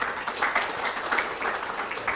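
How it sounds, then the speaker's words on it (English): Audience applause at a cancer-themed panel chat, a brief burst of close, fairly loud clapping that keeps a steady uneven patter throughout, with no speech over it. "That deserves a big round of applause"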